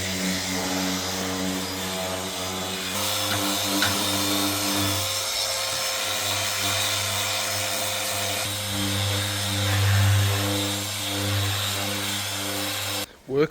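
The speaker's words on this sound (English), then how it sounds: "Bit of sanding." A power sander runs continuously on wood with a steady humming drone, rising and shifting in pitch as it works over the surface.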